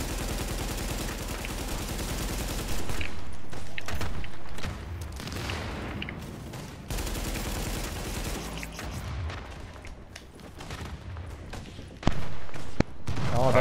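Rapid bursts of gunfire from an armored personnel carrier's mounted gun in a military video game, sustained and dense across the whole stretch with booming impacts layered in, loud and continuous with faint voices underneath.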